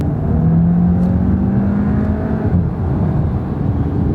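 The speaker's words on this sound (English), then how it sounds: "With the sport mode and the traction control off, hey, this thing is quite a bit of fun to drive." German-built car with sport mode engaged and traction control off, its engine droning steadily under acceleration, a loud, continuous low rumble with a rising tone and no talking.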